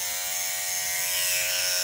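An electric hair clipper buzzes continuously in a steady, bright, close drone, heard alone with no talk.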